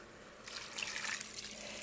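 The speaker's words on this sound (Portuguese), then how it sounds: "Vamos colocar água." Water being poured into a cooking pot with a quiet splashing trickle that swells in the middle and eases off, close and fairly faint, with no talking.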